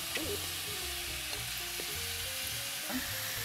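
Seasoned salmon pieces fry in a pan with a steady, close sizzle that runs unbroken throughout, overlaid by faint scraping and clinking from stirring.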